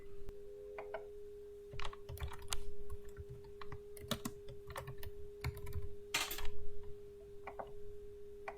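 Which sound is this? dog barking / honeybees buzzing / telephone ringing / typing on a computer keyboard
typing on a computer keyboard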